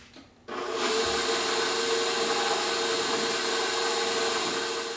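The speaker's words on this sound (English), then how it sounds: "I'm going to turn my mixer on high and let this frosting fluff for about 3 or 4 minutes" An electric mixer switches on and runs steadily on high, whipping cream cheese frosting with a loud, even whirring drone close by.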